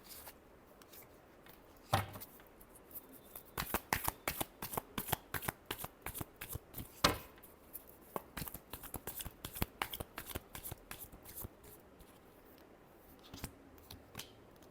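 Tarot cards being shuffled in a long run of crisp riffling and slapping bursts, close and fairly quiet, with brief pauses between bouts and no talking.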